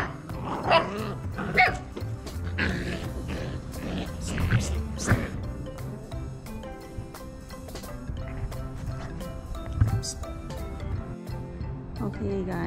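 Puppies about five to six weeks old and adult dogs playing together, with repeated close barks, yips and short growls in bursts over busy background noise, under talk.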